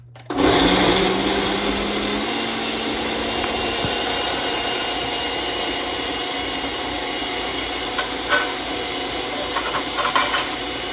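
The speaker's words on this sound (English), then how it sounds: "This is going to get a little bit loud, but you're going to want this to blend for about 30 to 60 seconds until it's smooth." A countertop blender whirring loudly and steadily as it purées ingredients until smooth, starting with a sharp spin-up and holding a constant roar, with a few knocks near the end.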